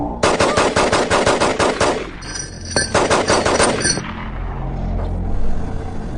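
Loud rapid bursts of automatic gunfire from a Hindi-dubbed Hollywood horror movie: two long volleys of fast shots, then a low rumbling tail.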